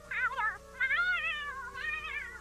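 A wet cat meows three times in quick succession. The cries are drawn-out, wavering and plaintive, close and fairly loud, with no talking over them.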